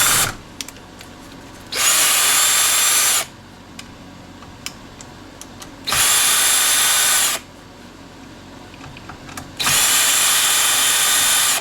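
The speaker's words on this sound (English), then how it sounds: "let us get off a bunch more of these screws here" Power drill running in three separate bursts of about a second and a half each, backing screws out of an Apple eMac computer being scrapped, loud and close with quiet handling clicks between bursts.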